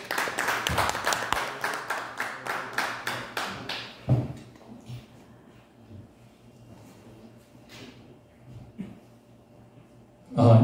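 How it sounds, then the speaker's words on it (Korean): Crowd applause rings out loud for about four seconds with rhythmic clapping, then fades into quiet room noise with scattered faint taps and a thump at the end. "관장님 모실 때 뜨거운 박수로 맞이해주시기 바랍니다"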